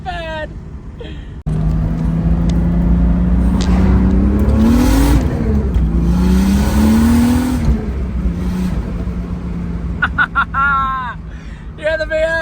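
A turbocharged Holden VL with a manual gearbox pulls hard in second gear from a roll, the engine note climbing loudly as it accelerates, then easing off while voices talk and exclaim around it.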